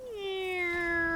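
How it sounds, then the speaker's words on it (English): A single drawn-out cat meow in a video game, a clear tonal call that falls and then holds steady for about a second, fairly loud and alone. "Just meow."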